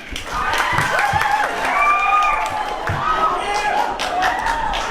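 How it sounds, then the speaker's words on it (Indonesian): Students clap and cheer for a candidate pair at a high school student council debate, broad crowd applause with voices and a few thumps rising and falling throughout. "mana tepuk tangannya nih?"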